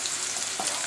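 Ginger-garlic paste and onions fry in hot oil with a dense, steady sizzle, close and continuous through the brief moment, no voices over it.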